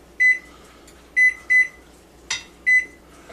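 A kitchen oven timer sounds four short, bright electronic beeps at uneven intervals, with a soft click between the third and fourth, all close and loud against quiet room tone.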